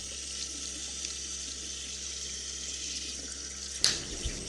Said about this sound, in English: Taking a shower,